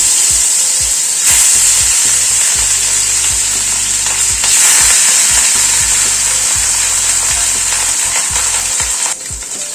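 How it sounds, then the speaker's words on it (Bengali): Fish frying in hot mustard oil in a wok, a loud continuous close sizzle that surges in bursts as pieces go in, with a low mechanical whirring pattern underneath. "তেলটা গরম হয়ে গিয়েছে, মাছটা দিয়ে দিচ্ছি।"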